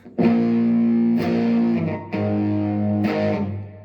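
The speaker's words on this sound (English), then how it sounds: "if you listen, this is my amp. I'm playing through a Black Star HT5" Distorted electric guitar chords through a Behringer HM300 pedal and a Blackstar HT5 amp ring out loud and sustained, struck several times with a brief gap before each new strum.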